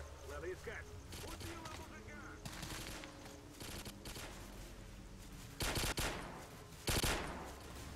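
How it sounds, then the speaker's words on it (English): Bursts of automatic gunfire ring out in Misery, the S.T.A.L.K.E.R. mod: scattered shots through the first seconds, then two loud, close volleys near the end over a low ambient rumble, with voices talking faintly. "What are they shooting at?"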